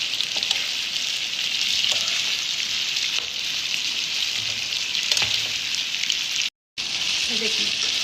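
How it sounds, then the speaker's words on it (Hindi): Garlic chicken frying in desi ghee, a close, steady sizzle and crackle across the whole stretch, dropping out briefly before resuming. "थोड़ा सा इसको फ्राई करेंगे।"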